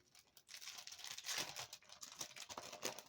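Packaging around a small unicorn rubber stamp is unwrapped, with quiet, close crinkling and tearing sounds that run continuously for a few seconds.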